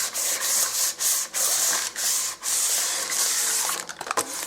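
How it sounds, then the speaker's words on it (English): A hand rubs butter around the inside of a baking pan, making close, scratchy smearing strokes in several sweeping passes with brief pauses between them; no talking. "So put it in, move it around and grease."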